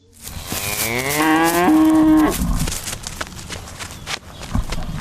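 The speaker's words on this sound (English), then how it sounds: "it is grappling with the incessant invasion of the compound by cattle" Cattle invading a school compound in Wenchi let out a loud, drawn-out moo close by, followed by scattered shuffling and hoof noises on the grounds.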